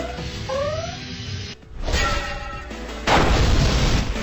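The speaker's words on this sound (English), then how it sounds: "Gotta redirect this cannon before it hits the city." Cannon blasts in the Flash RPG Phrozenflame RPG 2, booming crashes that cut in sharply, with a loud sustained blast near the end over a game soundtrack.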